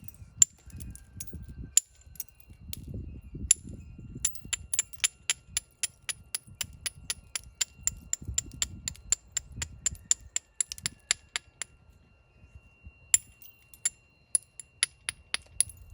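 Agatized coral being knapped: sharp, bright clicks of tapping strikes come in rapid irregular bursts, with some duller low knocks and handling rustle between them, no talking.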